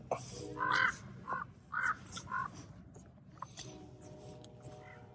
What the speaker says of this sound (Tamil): அண்டங்காக்கா